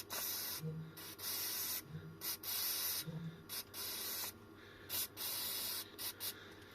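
Brake cleaner aerosol sprayed onto the gears of a Bafang bicycle hub motor in repeated loud hissing bursts of varying length, separated by short pauses, close to the microphone with no talking.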